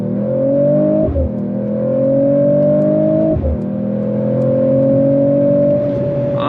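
A 2025 Mercedes AMG CLE 53 coupe accelerates hard on throttle from inside the cabin, engine note climbing steadily with two quick dips at paddle-shift upshifts, loud and continuous with no talk.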